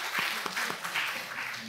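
Applause from a church congregation carries on during a sermon, a diffuse wash of many hands clapping at moderate volume, slightly thinner and fading.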